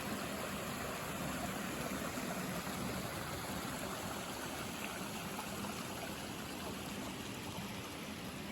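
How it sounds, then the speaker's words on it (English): A small waterfall tumbles through the rocky gorge of Purgatory Chasm in Massachusetts, a steady, dense rush of falling water holding an even level throughout with no voices. "There's a waterfall in Purgatory!"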